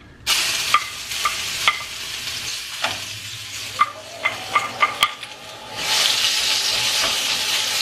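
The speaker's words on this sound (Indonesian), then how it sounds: "Setelah itu saya taruh 5 bumbu yang saya haluskan bersama-sama." A ground paste of candlenut, garlic, shallot, ginger and lemongrass fries for skipjack fish floss, sizzling steadily while a utensil taps and scrapes the pan repeatedly, the hiss swelling louder near the end.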